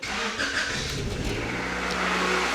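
A Honda Accord CB7 engine cranks over and catches, firing up into a running idle close by, loud and alone with no talk.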